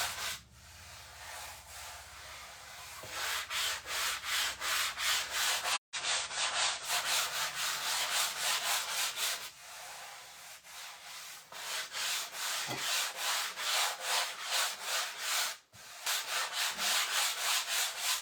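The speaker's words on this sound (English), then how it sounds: "I'm just gently gliding my 120 sanding block over top" A 120-grit sanding block glides gently over a wooden Christmas door-hanger sign, making a steady, soft rhythmic rubbing of repeated strokes with a few short pauses, close and quiet, with no voices.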